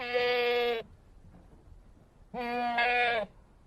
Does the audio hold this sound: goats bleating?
yes